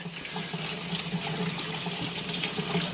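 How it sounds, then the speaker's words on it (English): Cold water runs steadily from a tap into a sink, a constant close hiss and splash with no pauses and no talk. "So let's turn it on the cold water."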